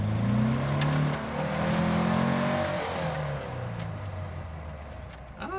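A 60-horsepower Porsche 356 B driving on a gravel road, its engine humming steadily and rising in pitch as it accelerates, with a continuous rumble of tires on loose stones throughout.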